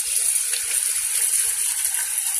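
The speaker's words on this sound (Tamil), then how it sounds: "ஸோ இப்போ அந்த தண்ணியை விடணும்" Water pours steadily into a pressure cooker holding washed rice, a continuous close, bright gushing splash that stays even throughout.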